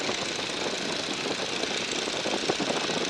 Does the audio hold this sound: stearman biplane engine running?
yes